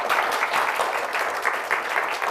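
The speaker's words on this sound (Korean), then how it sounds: "박수로 맞이하겠습니다" Sustained applause from a school lecture audience greeting a guest speaker, a dense, even wash of many hands clapping throughout with no break.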